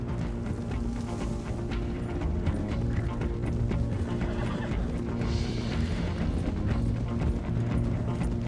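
Horse hooves clip-clop steadily in a video game, a continuous busy rhythm of hoofbeats over dense game sound throughout, with no one talking.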